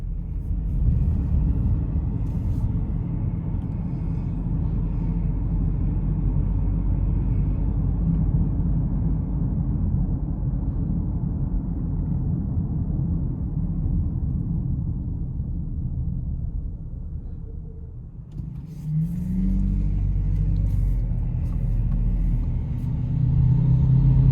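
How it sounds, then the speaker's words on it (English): Interior of a 2026 Nissan Rogue S FWD with a 3-cylinder engine while driving: a steady low rumble of engine and road noise that eases slightly, then swells again briefly near the end, with no talk. "But this 3-cylinder is just fantastic in terms of the sound acoustics, in terms of the sound you're getting from the engine bay."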